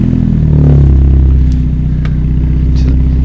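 A VW Golf R with a 2-litre four-cylinder TFSI engine running right beside the listener, a loud, steady low rumble with a slight surge early on before settling into an even idle, with faint clatter on top.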